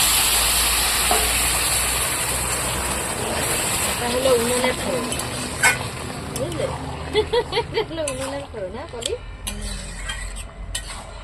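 Bay leaf, radhuni and whole cumin crackle and sizzle in hot oil in a home kitchen, a steady frying hiss with occasional stirring clinks beneath a person talking.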